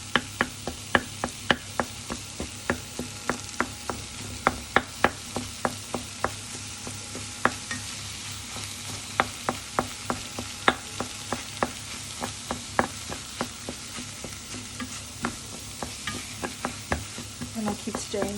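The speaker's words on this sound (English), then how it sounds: "175 grams of turkey. And I will cook that till it's brown." About 175 grams of ground turkey browns in a pan for a low-fat bolognese, a steady sizzle broken by frequent sharp taps and scrapes of a utensil breaking up and stirring the meat, close and continuous.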